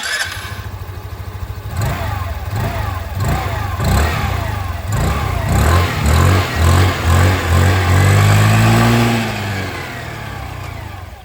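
A Hero Xoom 125 scooter engine idles, then revs repeatedly in short throttle blips, the exhaust note rising and falling loudly up close before settling back.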